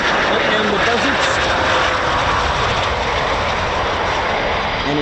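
RAF Typhoon FGR4 jet of 29 Squadron, the Coningsby operational conversion unit, roaring loudly and steadily overhead, with a voice talking beneath the engine noise.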